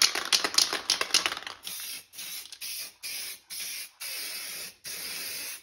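An aerosol spray paint can hisses in a run of quick short bursts, then settles into longer even sprays with brief pauses between them, close and loud.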